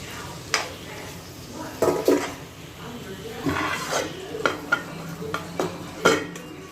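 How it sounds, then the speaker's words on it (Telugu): Tomatoes fry and are stirred in hot oil in a pan for a dry fish and egg tomato curry, with scattered scraping clatters of a spoon against the pan over a soft sizzle, under intermittent speech. "ఇప్పుడు దీనిలో టమాటా వేసుకోవాలి. టమాటా వేగాలి."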